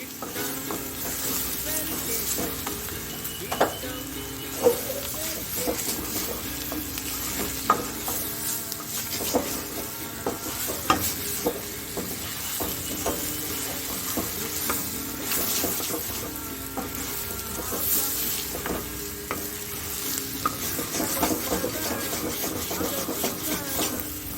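Ginger potatoes frying in a pan while a spoon stirs them, giving a steady broadband sizzle with frequent scraping clacks throughout.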